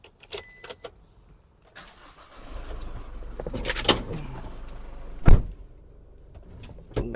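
An Isuzu D-Max pickup's engine cranks and catches with a sharp burst, then settles into a steady idle close by, after a few faint clicks and knocks like keys or a door.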